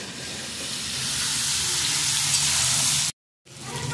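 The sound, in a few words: vegetables frying in oil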